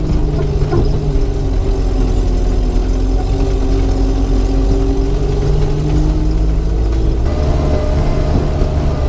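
The engine of a 1959 Moskvich 402 runs loud and close with a steady, rough mechanical drone. Late in the clip the engine note changes abruptly and settles into a slightly different tone.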